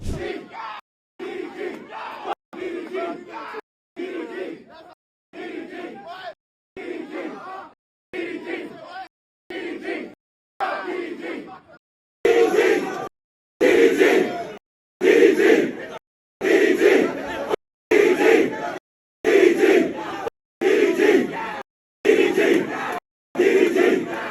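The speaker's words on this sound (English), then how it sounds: "a crowd starts chanting FDDG" A large crowd in Atlanta chants a short slogan in rhythmic unison, repeated bursts with brief gaps, growing louder and fuller partway through, voices yelling together with no other sound.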